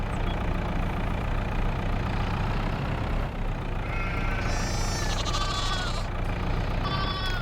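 Sheep and lambs bleat in Farming Simulator 22, several calls overlapping at moderate distance over a steady engine-like hum, growing busier toward the end.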